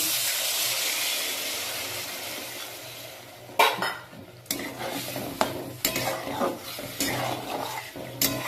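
Water hits a hot pan of spiced prawn curry with a loud hiss that slowly fades, followed by a spoon clattering and scraping against the pan in uneven strokes, close up.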